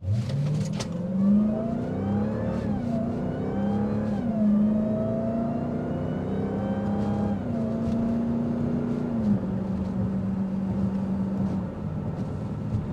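A 2025 Dodge Durango SRT Hellcat Hammerhead revs and accelerates hard, below full throttle, its deep exhaust note climbing through several gear shifts, loud and close throughout.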